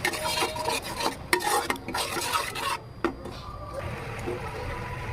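A spoon scrapes and stirs masala with Amul fresh cream in a pan for cauliflower, giving close, continuous rasping and clinking with a soft sizzle underneath.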